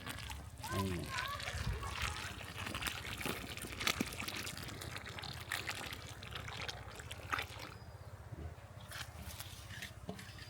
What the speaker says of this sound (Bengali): আমরা এখন এই যে শিমুলের যে সালের রস সেই পানিটা ঢেলে দিতেছি